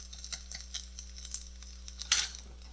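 Garlic gets stirred into crab fried rice in a hot pan, a soft sizzle under scattered scraping stirs and one louder stir burst near the end, close and fairly quiet over a low hum.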